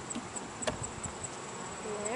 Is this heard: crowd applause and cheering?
no